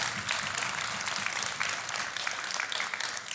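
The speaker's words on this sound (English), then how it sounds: "Getting the crowd behind him." A crowd at a Clash of Clans tournament applauds with sustained, dense clapping that stays loud throughout, with faint cheering mixed in.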